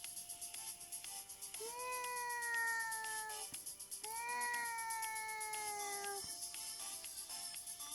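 A cat meows twice in long, drawn-out calls, each lasting a couple of seconds, heard close and fairly clear over steady background hiss, with no talking.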